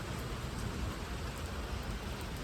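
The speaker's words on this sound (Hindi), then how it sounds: "उतनी देर से लगातार बारिश भी हो ही जा रही है" Steady rain falls at a railway station, a continuous even hiss of drops with no voices heard.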